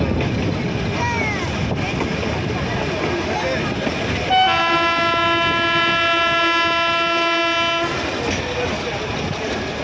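The Nilgiri toy train runs between Ooty and Coonoor with a steady rolling rumble, then its horn gives one long, loud, tonal blast of several seconds before the track noise carries on.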